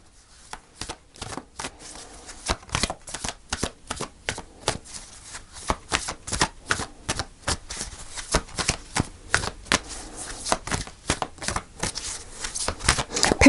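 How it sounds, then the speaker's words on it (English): Tarot cards are shuffled by hand in quick, crisp riffling bursts that grow louder and denser over several seconds, close up and with no talking. "So I'm going to pull a final card."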